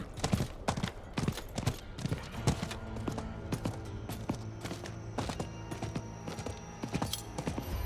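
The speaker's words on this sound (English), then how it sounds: "Someone is riding an invisible horse." Horse hooves clip-clop in the Diablo 4 video game, a quick run of sharp, distinct hoofbeats in steady rhythm over a continuous musical and ambient game soundtrack, fairly close and prominent throughout.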